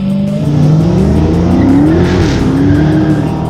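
A 2017 Dodge Challenger Hellcat accelerates hard, its supercharged engine roaring loud and close with a rising pitch that sweeps upward, tire squeal mixed in, continuous for the whole stretch.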